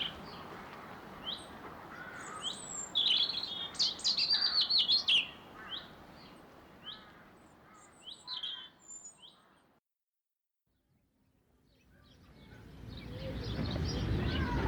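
Birds sing in spring, with bright chirps and tweets plus a few crow caws in a quiet setting, calls coming in bursts before fading to near silence and a rising wind-like rush at the end.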